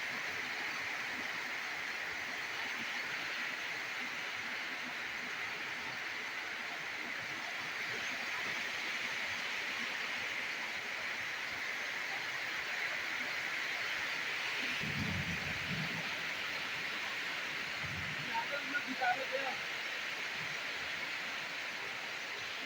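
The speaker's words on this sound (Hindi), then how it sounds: "बड़ी गरज के साथ बारिश हो रहा है महाराष्ट्र में, बादल गरज रही है।" Heavy rain in Pune, Maharashtra, a steady dense hiss of downpour throughout, with a low thunder rumble rising briefly about two-thirds of the way in.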